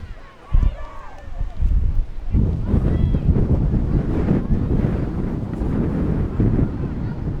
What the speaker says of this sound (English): Wind's starting to pick up here.